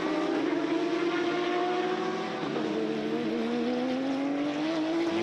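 GT race cars circuiting the Sebring track during an International GT race, a continuous loud engine drone with rising and falling pitch as one car slows and others pass, steady throughout with no talk.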